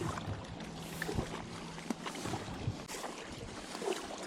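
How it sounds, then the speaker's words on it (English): Gusty wind blowing across a river during a packrafting trip, a steady close rush and buffeting on the microphone with faint water and boat sounds underneath. "The wind is blowing pretty good."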